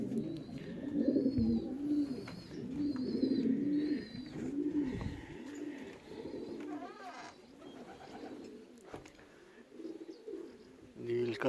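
Racing pigeons coo in low, rhythmic bursts at the loft during a 360 km race from Mlawa, with some birdsong and other background sounds.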